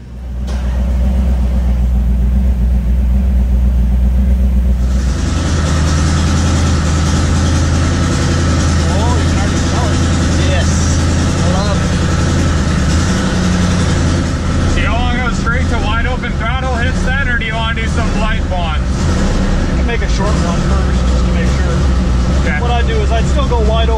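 A twin-turbo Hemi V8 running on race fuel in a test setup, a deep loud idle rumble that swells into revving, with people talking over the steady engine noise.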